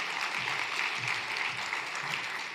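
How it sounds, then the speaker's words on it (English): An audience at a buildings and energy summit's opening plenary gives steady applause, a dense even wash of many hands clapping throughout, moderately loud and with no talk over it. "Let's give her a round of applause"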